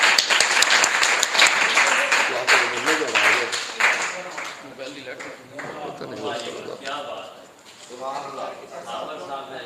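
Audience applause at a mushaira poetry gathering, a dense sustained wash of many hands clapping that carries on throughout, with a voice talking over it in the later part.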